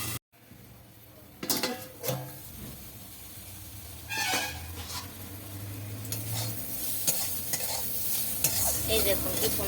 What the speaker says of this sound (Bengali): এই দেখুন কি সুন্দর ভাজা ভাজা হয়ে গেছে